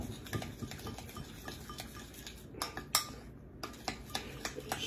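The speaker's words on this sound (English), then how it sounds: "所以我們要混合起來，我們用匙羹，我們混合起" A metal spoon stirs ingredients together in a bowl, cornstarch among them, with repeated light clinks and scrapes in an irregular rhythm. Close and fairly quiet, with a few sharper taps against the bowl.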